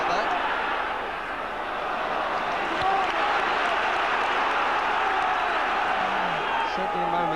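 A football crowd at a Newcastle match keeps up a loud, steady buzz and scattered applause, a broad roar of many voices filling the stadium with no break.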